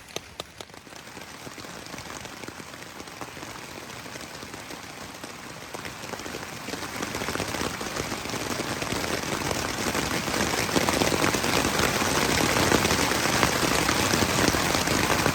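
Heavy rain pelts a taut tent surface in a dense, steady patter during a brief downpour, growing slightly louder over time, with no voices.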